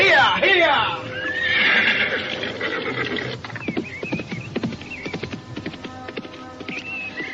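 A horse gives a loud, shrill whinny up close, then its hooves clatter in a quick galloping rhythm as it races off, with a voice calling out over it.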